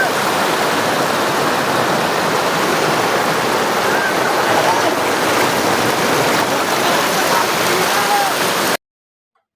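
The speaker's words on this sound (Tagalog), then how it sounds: "Sa lakas pa naman ng agos na 'yan eh." Strong river current rushes over rocks in a loud, steady roar of water that holds throughout and ends abruptly near the end.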